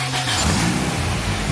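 Honda Civic engine started with a JDI push start, revving loudly and continuously up close with a steady mid-range engine roar throughout.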